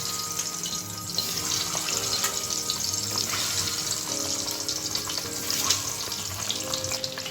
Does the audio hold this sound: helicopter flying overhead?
no